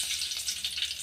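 Mustard seeds crackling in hot oil while tempering for a chutney, giving a steady, close, bright sizzle with faint pops throughout.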